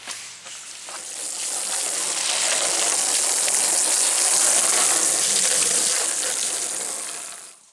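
Steady rushing water pours and splashes for several seconds, loud and close, with scrubbing swishes mixed in as a Club Car golf cart body is washed with soap and water, no talking.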